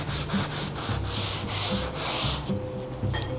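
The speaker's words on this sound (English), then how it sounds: "when you're sanding, you're going to sand with the grain" Sandpaper rubs back and forth along the grain of a wooden table in quick, rhythmic strokes, a close, coarse rasp that repeats about eight times.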